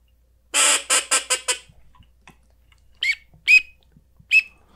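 A handheld duck call imitates a drake teal: a quick run of five bright, chirpy peeps, then three separate sharp whistles spaced apart, close and clear against a quiet room.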